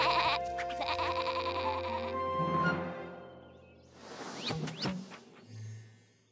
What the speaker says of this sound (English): Little Bo Peep lost her sheep.